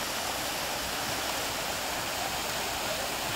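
River rapids in Glen Esk, where canoes come down through the white water: a steady, dense rushing roar with no break, loud and close.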